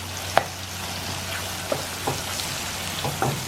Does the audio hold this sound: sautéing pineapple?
yes